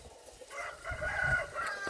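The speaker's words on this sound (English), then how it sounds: "Let y'all look at the chickens today." Rooster crowing at moderate distance over a faint farmyard background, a single drawn-out call with chickens clucking softly around it.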